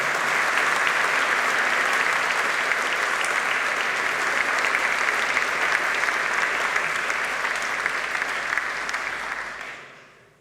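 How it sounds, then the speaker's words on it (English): Graduands at a University of Manchester graduation ceremony give a sustained round of applause, a dense steady clapping from a large hall crowd that fades out at the end. "So I would welcome the usual round of applause from the graduands as a mark of thanks and respect to all of you."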